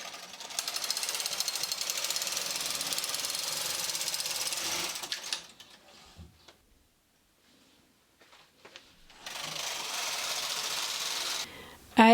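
A Brother 260 knitting machine fitted with a ribber runs a circular-knitting pass as a dense, rapid mechanical clatter and rattle, stopping for a quiet gap before a second loud pass resumes.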